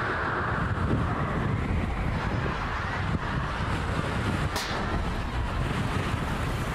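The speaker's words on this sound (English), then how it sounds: "Crazy wind blew the reporter umbrella." Strong wind buffets an outdoor reporter's microphone in a steady, loud rumbling roar that lasts throughout, with no clear voices over it.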